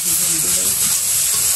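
Spices frying in a pan with garlic and ginger paste give a continuous bright hiss and sizzle under a person talking nearby.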